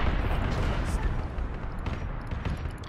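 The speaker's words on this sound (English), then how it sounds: "I can't hear you over the sound of explosions." Explosions rumble through an Arma 3 battle with Warhammer 40k themed vehicles, a dense, continuous low booming wash with sharper blasts layered on top, loud and close.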